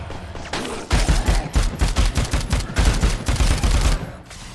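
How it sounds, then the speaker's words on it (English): A rapid, loud string of popping firework blasts in the video game Dead Rising 4, bursting in a steady rhythm for several seconds. "Look at the pretty fireworks!"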